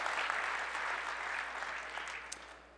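An audience claps steadily at a tech industry conference presentation, with dense, continuous applause filling the room at a moderate distance and slowly tapering toward the end.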